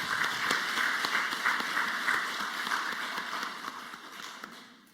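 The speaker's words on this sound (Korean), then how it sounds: "축복하고 격려하는 박수 하도록 합니다" A church congregation at a Sunday worship service claps steadily for several seconds for the choir and praise team, a dense, even patter of applause that gradually softens toward the end.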